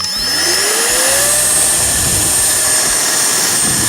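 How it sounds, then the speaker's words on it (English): A loud electric blower whirs steadily, its motor pitch rising as it spins up, then holding a constant rushing whine. "It's like a hairdryer, just goes with no heat."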